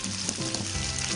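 Leeks fry in a hot pan for a squid stir-fry, giving a loud, steady sizzle and crackle that runs unbroken from start to finish.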